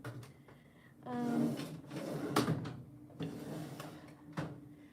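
A makeup drawer slides open with a scraping rattle, followed by clattering knocks and shuffling of items inside, fairly close and moderately loud, with a few sharp taps spaced across the moment.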